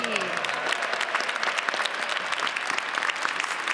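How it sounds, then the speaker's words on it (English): A convention audience applauds the tech table crew in a steady, dense round of clapping that fills the hall, with a voice briefly heard at the start. "how about a round of applause for the folks at the tech table?"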